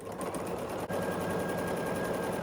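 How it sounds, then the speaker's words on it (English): A sewing machine stitches a quilt strip, its needle running in a fast, even mechanical rattle close by, briefly dipping near the start before continuing steadily. "I'm just going to get my 3rd strip now, and we're going to sew this on."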